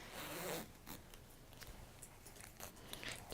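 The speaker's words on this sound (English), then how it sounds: "Just do our little zips up." Zips are pulled closed on fabric during textile sewing work, giving quiet raspy zipping strokes, one longer pull at the start and then shorter scratchy pulls with small handling noises, close and soft.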